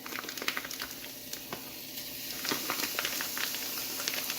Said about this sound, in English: I'm just going to add my ground beef to my pan, and I'm going to cook it